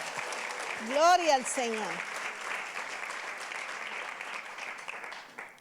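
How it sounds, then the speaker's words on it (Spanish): A congregation at a women's church retreat applauds steadily in praise. A voice calls out once over the clapping near the start, and the crowd keeps clapping at moderate volume. "Denle un aplauso al Señor"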